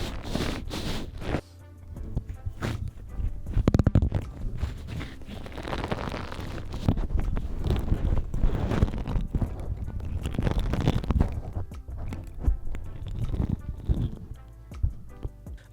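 A Shure A81WS foam windscreen being worked onto a Shure SM57 microphone, heard as close, loud rustling, rubbing and thumping handling noise right against the capsule, continuous and irregular.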